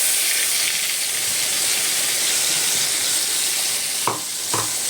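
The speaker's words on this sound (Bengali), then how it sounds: "এবারে আমি পেস্ট করে রেখে দিয়েছিলাম আদা, জিরে, পেঁয়াজ, টমেটো, কাঁচা লঙ্কা সব একসাথে পেস্ট করে দিয়ে রেখেছি। আমি এটা তেলে দিয়ে দেবো।" Ginger, cumin, onion, tomato and green chili paste frying in hot oil, a steady loud sizzle and hiss throughout, with two brief stirring scrapes near the end.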